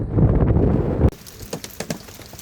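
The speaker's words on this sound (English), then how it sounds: "I got caught in the most almighty rain shower" Heavy rain roars loudly for about a second on the West Highland Way in Scotland, then cuts to sparse, sharp drips and patters on plastic against a hushed background.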